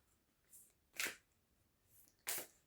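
A large tarot deck is shuffled by hand in soft, quiet bursts: two main riffling flutters about a second apart plus fainter card rustles, with no talking.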